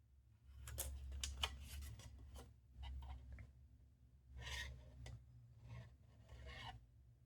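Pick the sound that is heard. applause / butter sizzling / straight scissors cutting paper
straight scissors cutting paper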